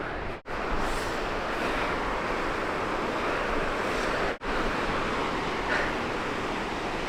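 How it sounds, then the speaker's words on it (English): A huge waterfall along an abandoned railway roars from behind, a dense, continuous wash of falling water broken only by two brief dropouts, with no talking. "Just hearing the sound, you know there's a huge waterfall behind this."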